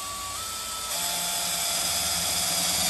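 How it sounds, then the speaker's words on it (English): An electric drill with a 5mm bit bores a hole through the side of a vehicle, a steady high whine that rises slightly in pitch and loudness partway through and then holds, with no talking. "use a 5mm drill, making sure you're wearing your safety glasses. Just carefully drill a hole through the side of the vehicle."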